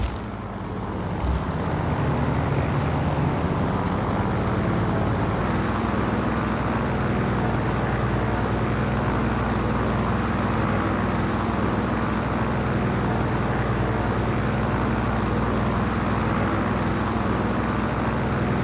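An aircraft takes off in Just Cause 4, its engine rising into a loud, steady roaring drone that holds unbroken for the whole stretch.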